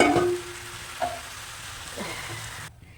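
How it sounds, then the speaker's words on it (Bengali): Potatoes for aloo dum sizzle in a pan, opening with a loud hiss and crackle that quickly settles into a quieter, steady fizz with a few small pops before cutting off near the end. "এই যে আলুর দম বসিয়েছি, কষাতে দিয়েছিলাম, কষানো হয়ে গেছে। এবার এর মধ্যে জল দিয়ে দেবো।"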